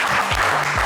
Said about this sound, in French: on va vous applaudir bien fort, mon cher Daniel